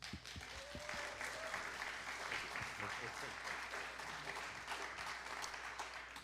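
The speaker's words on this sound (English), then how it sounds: "We applaud you all." A church congregation applauds its new members: soft, distant, steady clapping that continues evenly throughout, heard at low level with faint voices beneath.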